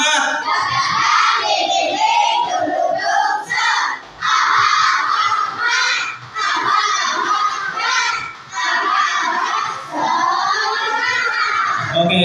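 A class of children chanting loudly together in a rhythmic, energetic group cheer, with brief dips between the shouted phrases.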